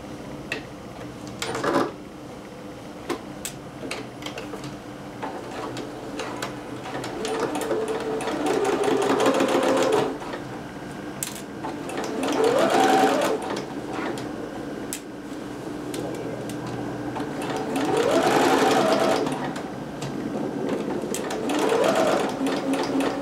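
A sewing machine stitches a regular 5/8 inch seam on a McCall's 6701 dress, its motor whirring in several bursts that rise and fall in speed, close and fairly loud, with brief pauses between runs.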